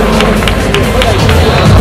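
Audience applause and crowd noise closing the Wellness Senior finals at a South American IFBB bodybuilding championship, a loud dense wash of clapping and voices throughout.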